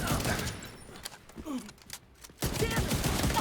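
Bursts of rapid gunfire from a shooter video game crackle close by, breaking off into a short lull before the firing picks up again.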